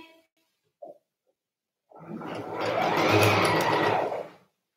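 A sewing machine stitches the fabric of a blouse in a sewing workshop, starting after a short pause and running as a steady, close, loud whir for a few seconds before stopping.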